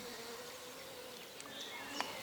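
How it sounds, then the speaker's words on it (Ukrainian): A dense swarm of mosquitoes hums over a flowering marsh in grey, overcast weather. The whining drone is steady and continuous, with a few individual insects passing closer and louder. "Комарів у похмуру погоду така кількість, що саме повітря здається сірим"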